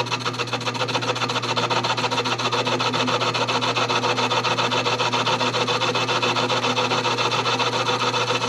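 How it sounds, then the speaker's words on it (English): A rat tail file works through the bores of steel spacers trued on an old South Bend lathe, for a tool to free stuck pistons on a 1939 Caterpillar D4. Rapid, even rasping strokes continue close and steady throughout, with no voices. "I'm gonna just stick a rat tail file through there and clean them up"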